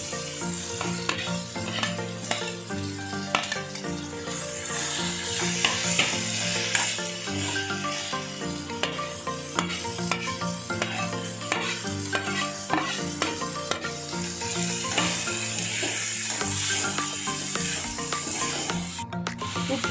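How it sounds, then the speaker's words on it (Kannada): Vegetables frying in a pan for bread toast, stirred continuously with a spatula, giving steady close scraping and sizzling with frequent sharp clinks against the pan throughout, no talking. "ಸ್ವಲ್ಪ ಬೇಯೋವರೆಗೂ ಕೈ ಆಡಿಸ್ಬೇಕು ಇದನ್ನು ಸ್ವಲ್ಪ ಬೆಂದಾದ ಮೇಲೆ ಒಂದೊಂದೇ ತರಕಾರಿ ಸೇರಿಸ್ತಾ ಬರಬೇಕು"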